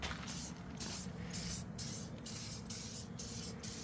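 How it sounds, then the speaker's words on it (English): Clear tire shine sprayed onto a vehicle tire in a series of steady hissing bursts, close by and fairly quiet, with no talking. "I'm just going to put a nice, light, even coating of shine"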